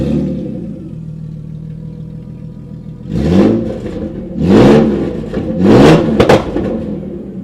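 A car engine with a battery drained by the alternator cranks and catches, then revs loudly three times in quick succession, rising and falling over a steady idle, close up with no talk.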